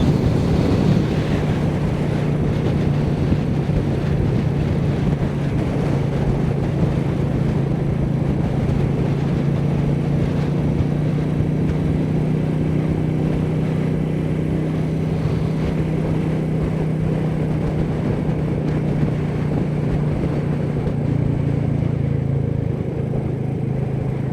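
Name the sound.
Royal Enfield Meteor 350 motorcycle ride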